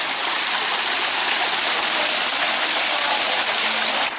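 Water gushes continuously from horse-shaped fountain spouts at the Lisbon Water Museum, a loud, steady splashing rush close by that stops abruptly at the end.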